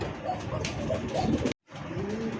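Pigeons coo softly at a pigeon farm housing black checker and red checker birds, their murmuring calls steady against background noise, broken by a brief moment of silence near the end.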